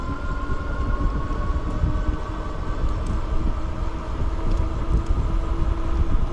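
A Lectric XP 3.0 step-through e-bike rides on pedal assist level 4, giving a steady motor whine with constant rolling and wind noise, close and moderately loud throughout with no talking.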